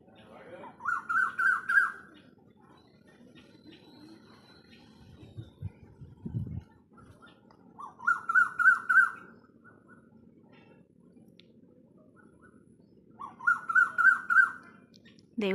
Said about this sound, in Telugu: మా చెట్టు మీద పక్షులు చూడండి